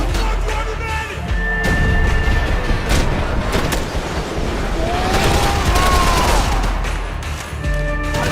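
Grenades go off in the Max Payne 3 shooter on PC, with heavy rumbling blasts and debris crashes mixed with scattered gunfire and a few sharp impacts in a loud, chaotic firefight.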